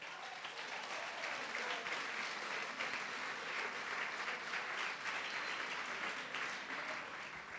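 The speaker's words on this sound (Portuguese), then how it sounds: "Uma salva de palmas para você" A crowd at a church service claps in a dense, sustained round of applause that holds steady and loud throughout with no break.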